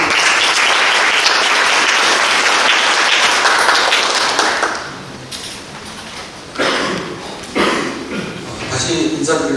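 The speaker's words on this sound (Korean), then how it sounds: "큰 박수 부탁드립니다." Audience applause at an economic forum in Suncheon, loud sustained clapping from a large crowd for about five seconds, then fading into scattered claps and shuffling with voices murmuring.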